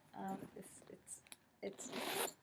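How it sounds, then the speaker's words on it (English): A bag zipper is pulled open in a few short rasping strokes, then one longer smooth zip, on an older Louis Vuitton Speedy B 30 or Gucci Boston handbag, close by with a voice speaking over it. "And it is a very smooth zipper."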